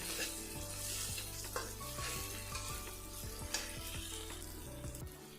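Spices frying in oil in a pan for a thin rohu fish curry with ridge gourd and drumsticks, a steady close sizzle with scraping stirs throughout, under a constant low hum.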